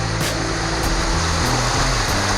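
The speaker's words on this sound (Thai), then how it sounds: "จะเหมือน น้ำตกทั่วไปครับ" A waterfall in the rainy season roars in a steady, loud, unbroken rush of falling water, close by and constant throughout.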